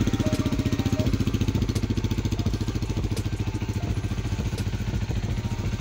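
A Rusi Flame 150X motorcycle, recently troubled by faulty wiring, runs close by with a steady, even idle chugging throughout and no talk.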